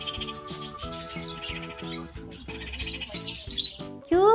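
A parrot chirps in quick high squawks and tweets near the end, over a steady children's-song music backing.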